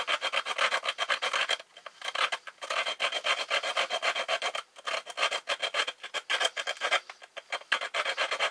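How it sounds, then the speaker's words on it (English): Dried chaga tinder fungus is scraped into powder with a blade, a dry raspy rubbing in quick repeated strokes, close and steady with brief pauses. "I'm just going to scrape it like this."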